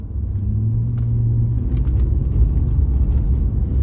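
A Volkswagen Phaeton V6 engine rumbles low and steady, briefly holding a raised tone under throttle before settling into a deep continuous drone.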